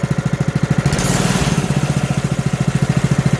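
A small engine cold-starting on the bench with the choke on, chugging in a steady rapid pulse, then swelling briefly as the throttle is blipped before settling back to a loud, close, even idle.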